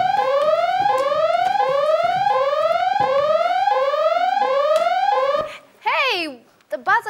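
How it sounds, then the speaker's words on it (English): A loud electronic buzzer rings in a fast repeating, rising siren-like pattern for about five seconds, then breaks into a few short chirping blips. "Buzzer can only mean one thing."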